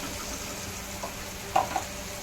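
Chopped tomatoes stirred in a frying pan, a soft steady sizzle with a couple of brief spoon scrapes and clinks near the end.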